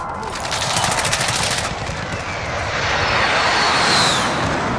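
Call of Duty Warzone airstrike, rapid rattling machine-gun bursts over a loud roaring aircraft engine, the fire cutting off as the jet roar swells and sweeps past.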